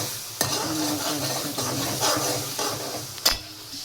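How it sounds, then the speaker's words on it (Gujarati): Steady sizzling and frying of mung beans with tomatoes and spices in a pan, with a spoon scraping and stirring, plus a couple of sharp metallic clinks. "મગ વઘારી દીધા છે"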